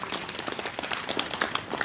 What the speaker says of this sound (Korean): 다 동의하시면 박수 쳐주세요.